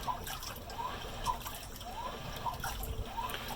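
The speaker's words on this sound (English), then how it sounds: "the water sloshing around is louder than the motor and the agitator" Water sloshes and trickles inside a GE Profile top-load washer with low-water HE wash. It sounds as soft, repeating swishes at an even rhythm, quiet and close, with no motor noise standing out.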